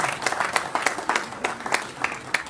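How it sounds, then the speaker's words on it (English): Audience at an East Chapel Hill Rotary meeting applauding: steady crowd clapping in a room, moderately loud, with sharp individual claps poking out of the wash and no talking over it. "you all can applaud because that's over"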